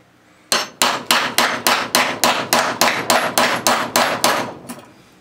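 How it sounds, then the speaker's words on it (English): Hammer whacking a barrel pin out of an AK trunnion, about fourteen sharp metallic strikes in a steady, even rhythm, loud and close with no talking. "So I'm just going to give it a couple more whacks here."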